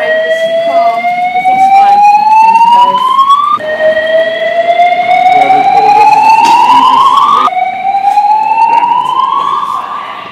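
A loud fire truck siren wails in repeated rising sweeps outside the Denver Art Museum during an alarm evacuation, three long climbing cycles that sound close by and dominate the scene.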